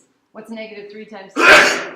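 A single loud, close sneeze bursts out right after a short spoken question in a classroom algebra lesson, sharp and breathy, lasting about half a second.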